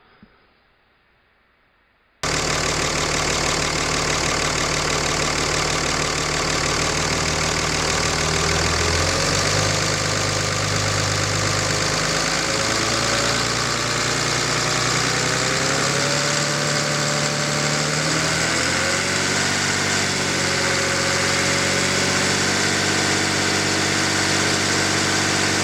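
A diesel engine runs steadily at close range after a brief quiet start, its loud, rough drone shifting slightly in pitch partway through, with no voices.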